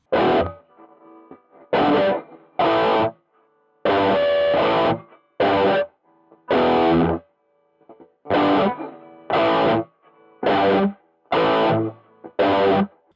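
Chunky distorted electric guitar playing a riff in short, punchy bursts separated by brief silences, loud and close with no voice.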